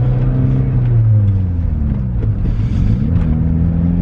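A VW Beetle Turbo S with a straight-pipe exhaust from the cat back rumbles loudly up close, its deep engine drone rising and falling as the revs shift, with no talking over it.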